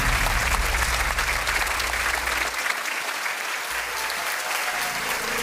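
Dense, loud studio audience applause on the Polish TV show The Brain Genialny umysł for a contestant, sustained and even throughout with a faint low hum underneath.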